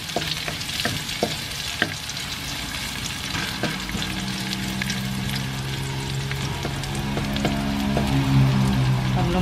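Garlic sizzling in a hot pan for Filipino kare kare, a steady crackling fry with occasional stirring clicks and scrapes early on, growing louder and denser toward the end.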